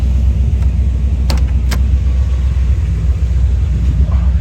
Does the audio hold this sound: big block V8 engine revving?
yes